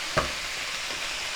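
Chicken and vegetable noodles stir-frying in a hot pan, a steady close sizzle with a brief scrape or toss near the start.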